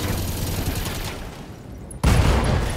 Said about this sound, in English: MG ammo explosion,